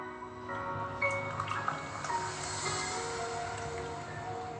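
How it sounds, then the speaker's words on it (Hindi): Hot water, about 120 ml, poured into a cup for making coffee, a steady close trickling and splashing stream that continues throughout. "एक 120 ml की गर्म पानी डालें"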